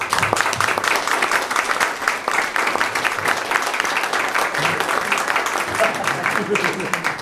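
Long, steady audience applause after a University Singers choral concert, a dense wash of clapping in a hall that carries on unbroken with faint voices beneath.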